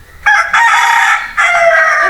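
Rooster crowing loud and close, two strong sustained calls with a short break between them, no talking.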